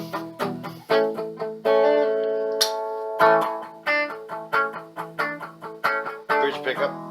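A 1960s Univox U65Rn electric guitar on its neck pickup is plucked in a series of warm, rounded notes and short chords, each attack fading quickly, played alone at close range.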